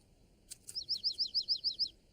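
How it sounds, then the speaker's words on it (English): Small cartoon bird chirping in a quick series of about ten bright, evenly spaced tweets, preceded by two short higher calls, clear and close with no talk over it. "Caillou was startled and excited to hear the bird chirp."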